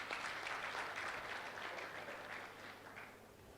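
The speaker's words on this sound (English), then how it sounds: "Give him another round of applause." A hall audience at the opening ceremony of a 59th annual general meeting and conference gives a round of applause, a steady wash of clapping that slowly fades over a few seconds.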